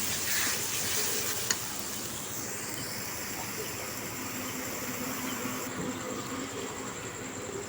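A ground spice paste of onion, garlic, ginger, cumin and coriander sizzles steadily in a pan for a curry of country chicken, a continuous close hiss with a faint buzzing edge and no talk.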